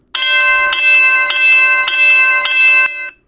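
An HO scale model train's ESU LokSound decoder rings its bell, five loud, evenly spaced metallic clangs with ringing overtones, crisp and close, stopping after about three seconds.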